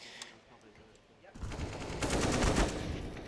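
An AK-47 fires in a Counter-Strike match on Dust2, giving a rapid rattling burst that starts abruptly after a quiet lead-in and carries on at moderate loudness beneath distant game sounds.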